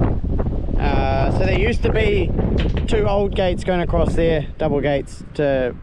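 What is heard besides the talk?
wind blowing across the microphone outdoors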